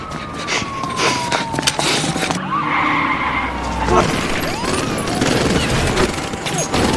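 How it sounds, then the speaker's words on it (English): Gunfire in a crime movie scene, a robber shooting a man who follows him, with sharp bursts mixed among screeching, siren-like tones and busy action noise, loud and chaotic throughout. "When Frawley follows him, Jim immediately shoots Frawley"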